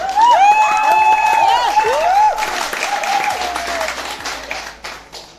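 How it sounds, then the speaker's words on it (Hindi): An audience applauds to welcome guests at a behind-the-scenes event for the TV show Madam Sir. Steady, close crowd clapping carries whooping, tonal voices on top for the first half, then thins and fades toward the end. "यार एक बार जोरदार ताली से स्वागत करें यार"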